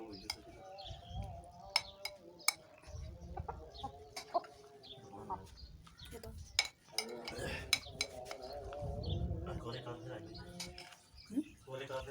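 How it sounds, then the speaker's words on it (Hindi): Spoon stirring yogurt into a chana chaat of black chickpeas and potato, irregular sharp clinks and scrapes against the bowl with soft wet mixing between, close by, alongside occasional clucking fowl. "और अभी इसको अच्छे तरीके से मिक्स करेंगे।"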